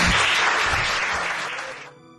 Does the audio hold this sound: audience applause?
yes